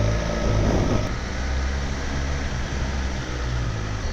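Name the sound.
superbike engine idling on stock exhaust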